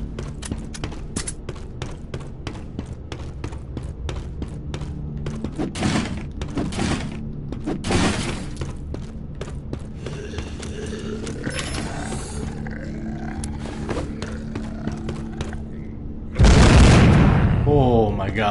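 Rapid gatling gun fire rattles in fast bursts of mechanical shots in the mobile zombie shooter The Walking Zombie 2, ending with a sudden loud blast near the close.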